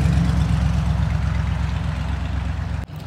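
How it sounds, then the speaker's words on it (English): Heavy truck rumbling past outdoors, a steady low engine drone with throbbing pulses that holds for about three seconds before cutting off abruptly. "you can hear a nice truck going by."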